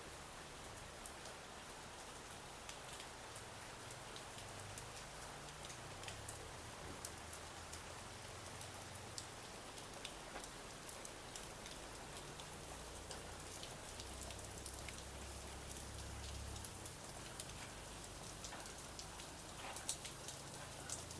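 Steady rain falls during an outdoor walk, a soft, even hiss of drops pattering on surfaces for the whole stretch, faint and unbroken, with a few slightly sharper drips and no speech.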